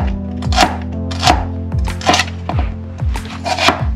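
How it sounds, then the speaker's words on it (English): A knife chops celery on a board in five even, crisp strokes about 0.8 seconds apart, each a loud, close crunch followed by a brief scrape, with no talking. "Now I'm cutting the celery."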